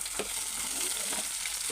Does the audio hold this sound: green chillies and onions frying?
yes